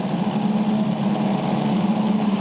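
Several 1.6-litre turbocharged Ford EcoBoost Formula 4 race car engines sit on the starting grid at Sydney, held at high revs against the rev limiter as a dense, steady droning roar with no pause.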